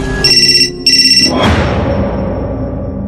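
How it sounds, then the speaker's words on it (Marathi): A mobile phone on its charger rings in an eerie horror audio drama: two short bursts of a bright electronic ringtone, then a swelling, sweeping swoosh that settles into a low, ominous drone. "चार्जवर ठेवलेला त्याचा फोन अचानक वाजला"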